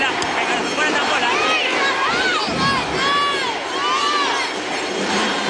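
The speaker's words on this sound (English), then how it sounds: "It's an electric crowd here at the arena" A roaring arena crowd cheers and chants at a university volleyball match between Ateneo and La Salle, with swelling shouts and whistling voices filling the hall steadily.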